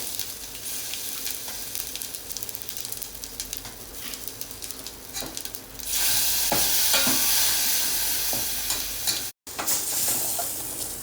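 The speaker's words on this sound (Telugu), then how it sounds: "ఇది 1 నిమిషం పచ్చి వాసన పోయేదాకా వేయించుకుందాము." Ground paste and turmeric frying in a pan for majjiga pulusu, a continuous close sizzle that swells louder partway through, with light stirring scrapes over it.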